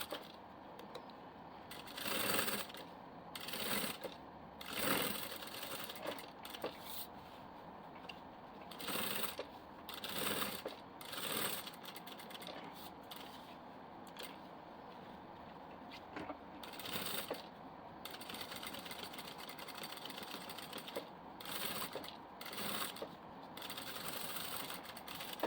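Sewing machine running in repeated short bursts while stitching close along the edge of a fabric diaper bag with lining, stops and starts between runs, moderately close with no talking.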